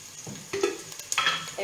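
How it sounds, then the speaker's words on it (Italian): An anchovy fillet frying in a soffritto in a pan gives a soft continuous sizzle with several scraping and clinking stirs of a utensil, heard close with no voices. "Stiamo soffriggendo, lasciamo andare, poi sfumeremo con del vino"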